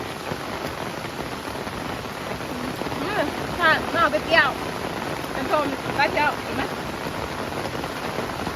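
Steady rain falls throughout during a heavy downpour, a dense even hiss without breaks, while people talk briefly in the middle.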